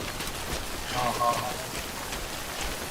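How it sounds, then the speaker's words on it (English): Steady rain in the video game Death Stranding, falling as a dense, even hiss that fills the whole stretch, with a faint tonal blip partway through. "Don't stay out in the rain any longer than you have to."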